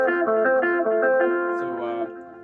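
A keyboard plays a universal groove over a 1-5 chord progression in F, a close, bouncy rhythmic chord pattern of several repeated hits that fades out near the end, with no talk.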